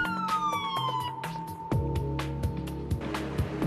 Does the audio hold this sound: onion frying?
no